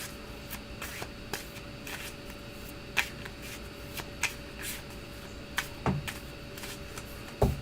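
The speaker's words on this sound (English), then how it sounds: "shuffle and cut for me" Tarot cards are shuffled by hand, a quiet run of soft flicks and riffling snaps with a few sharper taps, close and faint, with no talking.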